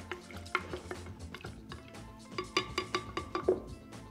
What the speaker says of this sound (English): Gonna give that a good stir.